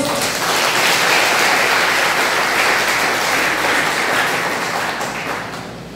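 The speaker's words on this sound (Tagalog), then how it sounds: "Pwede po bang bigyan natin ng isang palakpak ng Diyos?" A church congregation at a Sunday service breaks into sustained applause, dense clapping filling the room for about six seconds and fading slightly at the end, with no talk over it.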